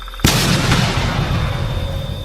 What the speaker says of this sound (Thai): เสียงปืนลูกซองเง่าดังขึ้น